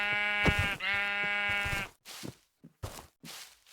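A Minecraft sheep gives one clear, close bleat, followed by a few short, faint clicks and thuds from the game, with no talking.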